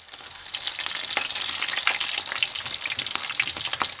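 Bitter cabbage shoots stir-fried with roast pork in a Hmong dish sizzle steadily and loudly, with scattered crackles and the scrape of stirring throughout.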